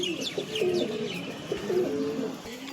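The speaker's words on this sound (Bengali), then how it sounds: "লাল চীনা পায়রা আছে" Lal Chini pigeons, a Punjabi blood line, cooing softly at close range in repeated rolling phrases, with faint chirps and light background noise.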